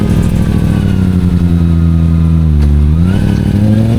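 A Kawasaki ZX-25RR 40th Anniversary motorcycle on a hill road revs hard and close, its high-pitched engine note holding steady, dipping briefly as it shifts, then climbing again.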